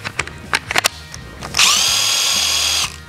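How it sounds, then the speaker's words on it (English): A Hart impact driver whirs for about a second and a half, loud and steady near the mic. Several sharp clicks and handling knocks come just before it starts. "the sound of a beautiful heart impact driver"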